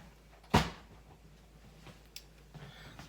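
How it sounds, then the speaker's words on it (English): The ice compartment of an LG French door Slim Spaceplus refrigerator is opened with a single sharp plastic clack, followed by faint clicks and soft rattles as the ice tray is pulled out, close and quiet. "So I'm going to open it up here, take out my ice tray."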